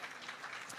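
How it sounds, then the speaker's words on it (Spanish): A live audience at a motivational talk claps steadily, a brief, moderately distant patter of applause with no speech over it. "Un aplauso para César."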